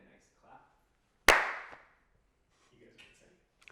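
A group in a room gives one sharp clap on cue. It is a single loud, crisp crack with a short ringing tail, set among quiet murmurs and faint voices before and after.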